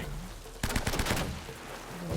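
A burst of rapid gunfire in the video game Uncharted: Drake's Fortune Remastered, played on Brutal difficulty, with a volley of sharp cracks over a steady game ambience.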